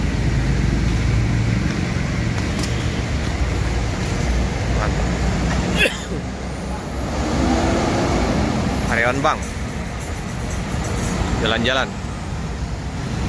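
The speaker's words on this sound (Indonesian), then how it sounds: "Berangkat 2 bus dari Bank BTN." Two tour buses pull out of a busy Epa Star bus station. A loud, continuous engine rumble mixes with roadway traffic noise, and people talk nearby over the vehicles.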